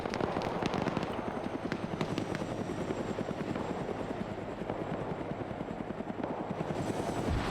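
Helicopter in the Arma 3 video game, a loud, steady rotor thump and engine roar that runs continuously and close throughout, with faint crackling pops mixed in.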